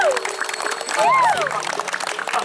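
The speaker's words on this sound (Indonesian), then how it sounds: "mari kita tepuk tangan" An audience at a Balinese prembon performance at Pura Samuan Tiga temple claps steadily and densely throughout, with a few shouts and voices rising over the applause.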